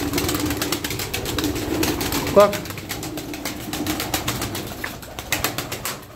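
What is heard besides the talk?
pigeon cooing in a loft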